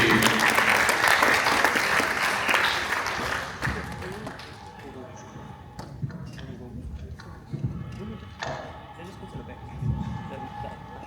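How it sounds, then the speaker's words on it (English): An audience gives a round of applause at a startup pitch competition final. The clapping is loud and full for the first few seconds, then thins out and fades while voices talk, with a few scattered claps lingering. "let's have a round of applause for Scape"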